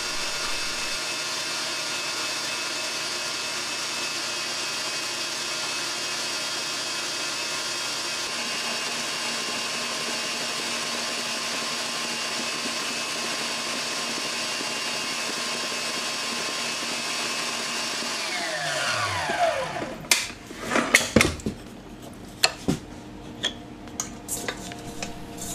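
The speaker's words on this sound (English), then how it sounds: "place the bowl in the mixer and whisk until pale yellow" A stand mixer whisks whole eggs, yolks and sugar for a Christmas trifle, a steady, even motor whir holding for about twenty seconds before a few clinks and knocks of the bowl and beater as it stops.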